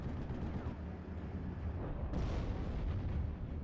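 A tank firing a high-explosive round in the WWII strategy game Steel Division, with German Panther tanks on the field: a sudden broadband blast partway through over a continuous rumbling battle din, rather faint overall.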